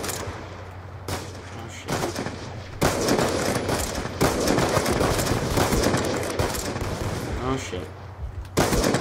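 Bursts of rapid gunfire from a video game shooter come in loud clusters with brief pauses between them, mixed with game sounds and background music.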